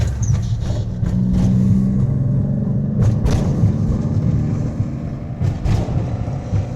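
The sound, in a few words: Honda kei truck engine while driving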